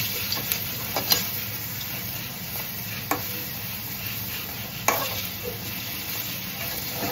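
Pointed gourd fritters fry in white oil in a hot kadai, a steady sizzle broken by a few sharp utensil clicks and scrapes as they are turned, with no talking.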